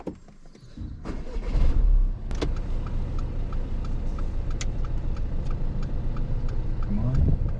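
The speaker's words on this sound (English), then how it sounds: "let's start the car." A car engine starting during a driving lesson: a brief cranking burst followed by a steady, fairly quiet idle with a faint regular ticking, heard from inside the car.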